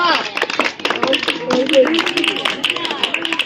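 Children in a classroom applaud a student's spelling test score with quick, scattered claps mixed with voices and chatter, fairly loud and close, lasting a few seconds.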